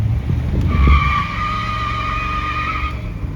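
A 1973 Ford LTD with a 460 V8 doing a burnout: tires squeal in a loud, sustained screech with steady tonal bands over the deep engine rumble, close up and continuous.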